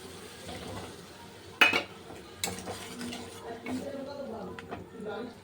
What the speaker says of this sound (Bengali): এবার আলুটা দিয়ে দেবো।